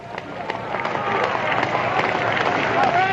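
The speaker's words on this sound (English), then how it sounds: "Unison clapping happening here." Rhythmic unison clapping from a baseball crowd at a Winnipeg Goldeyes vs. Wichita Wingnuts ballgame, steady and fairly loud against a broad stadium murmur, with an announcer talking over it.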